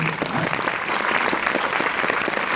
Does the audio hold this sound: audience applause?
yes